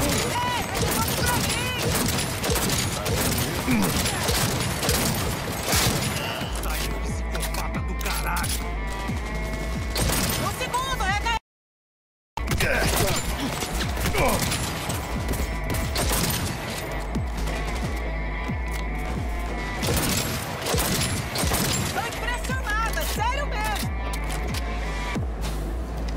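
Sustained gunfire in the Cyberpunk 2077 video game, a dense fusillade layered over music and effects for most of the clip, broken by a short total silence midway before resuming just as loud.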